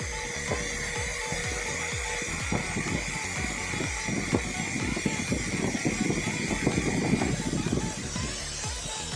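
A DCA AZJ16 cordless impact drill runs at top speed, a steady high-pitched motor whine with hiss sustained throughout, close and fairly loud, with a rough rattling texture that intensifies midway.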